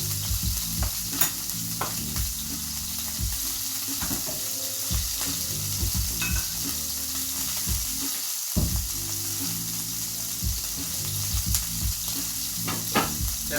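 Food browns quickly in a pot with a steady sizzle, while frequent stirring knocks and utensil clatters sound close by, with no talking.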